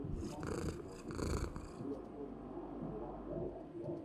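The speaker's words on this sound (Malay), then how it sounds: "Oh, ni kucing aku." A cat purrs with a soft, continuous low rumble that stays fairly quiet throughout, with a few brighter rustling sounds near the start.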